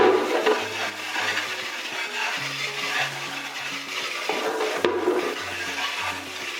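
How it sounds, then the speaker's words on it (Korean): Water spraying and splashing as LG Whisen Aroma stand air conditioner parts are rinsed by hand, a steady broadband rush of water with faint low hum underneath, continuing close by without talk. "꼼꼼하게 이렇게 헹궈줍니다"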